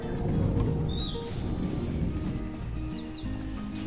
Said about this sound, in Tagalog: Ang ibon lang ang may karapatang mag-ingay.